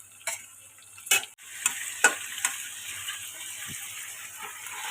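Chicken meat is stirred as it fries in a pot at home, with scattered scraping and clattering strokes over a steady, moderately close sizzle, a few sharp knocks standing out.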